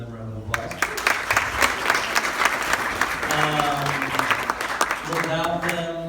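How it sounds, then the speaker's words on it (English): Wedding guests applaud at a reception, a steady wash of clapping under a voice that keeps talking over it at moderate volume throughout. "So let's give them a round of applause."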